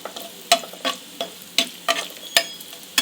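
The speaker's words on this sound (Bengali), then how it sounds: "নারকেলটা আমার ভাজা হয়ে গেছে" Grated coconut fries in a pan for chana dal khichuri, a soft continuous sizzle with evenly spaced scraping stirs about every third of a second, close by and alone.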